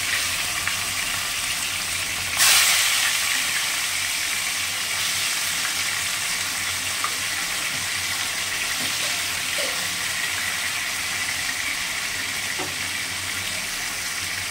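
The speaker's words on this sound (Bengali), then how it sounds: "এবারে সাদা তেল দিয়েছি কড়াতে, মাছগুলো ভেজে নেব।" Fish frying in white cooking oil in a wok, a steady loud sizzle running throughout with a brief sharper burst early on and faint clinks of handling.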